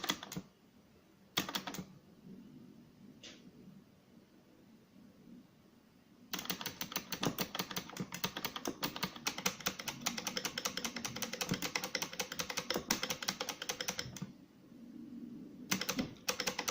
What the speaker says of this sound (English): So these are all clicky buttons.